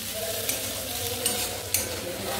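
Meat is stirred and sautéed in a pan for a Bengali home-style dish, giving a steady low sizzle broken by three brief scraping clicks of a spatula against the pan.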